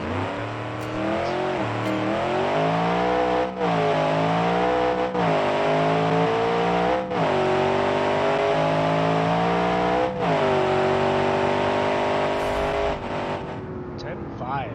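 A drag truck engine in the BeamNG video game revs hard and steadily at high pitch, with small dips where the revs shift, and tires spin under it. It stays loud and continuous throughout.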